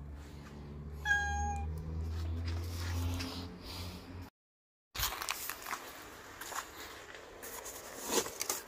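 Small kitten meowing during a rescue: a single high, thin mew near the start over low engine-like rumble, followed by a gap and then rustling, crackling handling noise.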